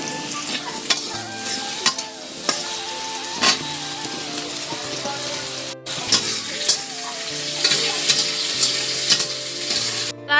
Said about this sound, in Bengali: এরপর কুমড়োগুলি ভেজে নেব, তার সাথে দিয়ে দেব আলু, দিয়ে একই সাথে ভেজে নেব